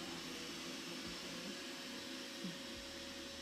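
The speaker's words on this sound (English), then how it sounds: "The vacuum is running around here." A vacuum cleaner runs nearby with a steady, faint, unbroken whine and airy hiss and no talking.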